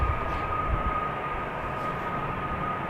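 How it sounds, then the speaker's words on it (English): EasyJet airliner taking off at Amsterdam Schiphol Airport, a steady broad jet roar with a faint high whine, heard from a distance and holding even throughout. "the EasyJet is just about to take off"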